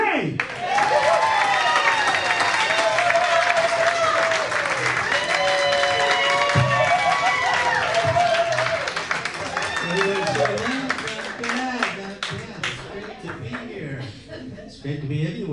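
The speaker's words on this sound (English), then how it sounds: "big round of applause for our next comic" A comedy club crowd applauds and cheers as a stand-up comic takes the stage, the clapping loud and sustained at first, with whoops and voices over it, then thinning toward the end.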